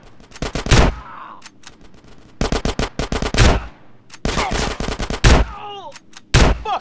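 Suppressing gunfire in GTA San Andreas comes as loud, rapid automatic bursts in three or four separate volleys, each a quick rattle of shots, with short gaps of quieter background between them.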